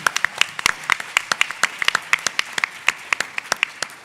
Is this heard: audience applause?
yes